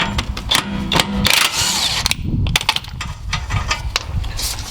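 A wrench loosening a 19mm bolt on the forward arm of a Lexus LS430, heard as close, loud metallic clanks, ratcheting clicks and scraping bursts in an uneven rhythm.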